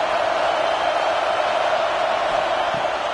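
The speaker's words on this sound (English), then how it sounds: "The Tide crowd rolling noise down onto Saban Field on 3rd down" A packed college football stadium crowd on third down, a broad continuous roar of massed voices swelling loudly and evenly without pause.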